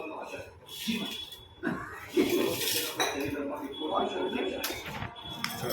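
Plates and steel utensils clink and clatter at a family pakodi party as food is served onto dishes, with several people chatting and laughing over the irregular clinks throughout.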